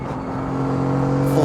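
A Mercedes-AMG GT4 race car on the Portimao circuit accelerates at full power, its loud engine note climbing steadily in pitch from inside the cabin over a short burst.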